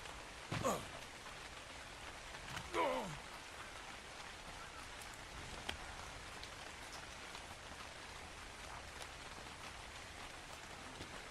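Steady rain patters in the video game Ark: Genesis, a faint continuous hiss with scattered drop ticks, interrupted early by two brief vocal bursts before settling into the even downpour.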